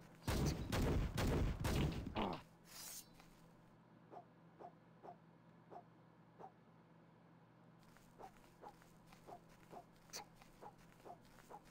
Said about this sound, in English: The sound it makes when I go through this window is the same sound it makes when I shoot things.